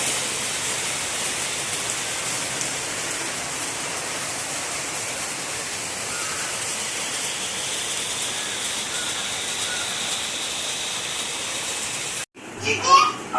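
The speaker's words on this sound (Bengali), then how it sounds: "এই যে বলতে বলতে বৃষ্টি শুরু হয়ে গেছে।" Rain falling outside a home, a dense, steady hiss of drops on surfaces that continues evenly for the whole stretch, with faint children's voices in the background before it cuts off.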